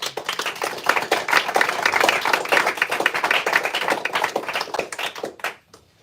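A conference audience claps for the panelists at the close of a discussion on industrial infrastructure. The applause is dense and fairly close, holds steady for several seconds, then fades out abruptly.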